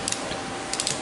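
A socket wrench with a 15/16 socket ratchets on Lincoln Continental seat frame bolts, giving a quick close series of sharp metallic clicks in two short bursts.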